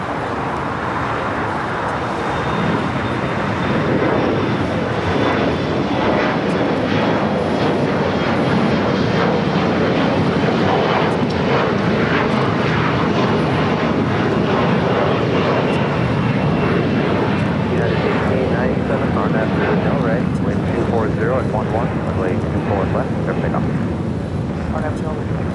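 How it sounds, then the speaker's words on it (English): An Air China Boeing 777 freighter jet takes off at LAX, a loud sustained engine roar heard from nearby, with road traffic and a voice talking over it. "We'll join that Air China 777 freighter for south side at takeoffs."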